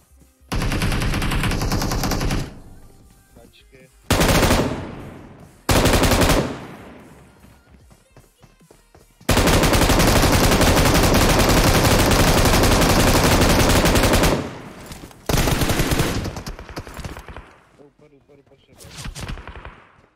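Machine gun fire in PUBG Mobile on the Sanhok map, played on a Sharp Aquos R2 phone. Loud, dense automatic bursts of varying length alternate with short gaps, including one long sustained burst near the middle.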